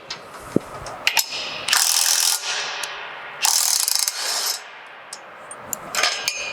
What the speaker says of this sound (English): So remove this bolt.